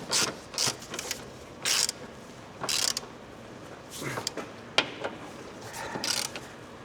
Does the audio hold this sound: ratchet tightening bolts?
yes